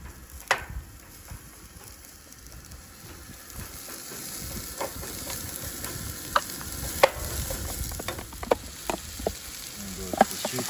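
Onions and ginger fry in coconut oil over a campfire, giving a steady crackling sizzle with sharp pops and spatters that grow slightly louder toward the end, with no talking.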